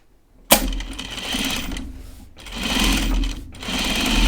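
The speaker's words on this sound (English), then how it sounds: "I'm gonna run some top stitching across here." A sewing machine top stitching a jacket runs in close, steady bursts, starting with a sharp click and whirring through two rhythmic stretches separated by brief pauses.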